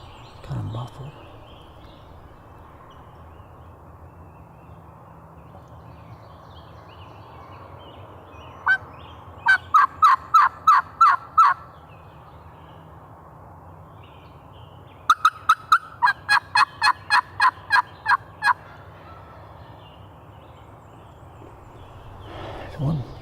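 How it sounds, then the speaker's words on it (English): A wild turkey gobbles twice during spring turkey season, each a rapid rattling series of notes, distant and muffled over steady outdoor background noise. "There's one turkey with a deep gobble up to the left."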